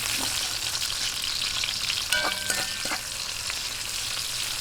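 Onion, added after garlic is browned for a guava-soured milkfish soup, sautés in hot oil with a loud, steady sizzle and a brief clatter of utensils in the middle.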